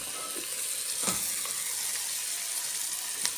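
Meat frying in a pan with onion and spices, a quiet steady sizzle broken by a few scraping stirs, close up and with no one talking.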